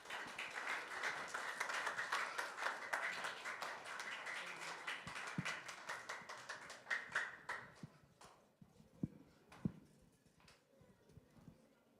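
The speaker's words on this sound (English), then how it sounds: "Let's welcome him with a big round of applause." A congregation in an Adventist church gives a round of applause, dense and steady for several seconds before thinning out to a few scattered claps near the end.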